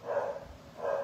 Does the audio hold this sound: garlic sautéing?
no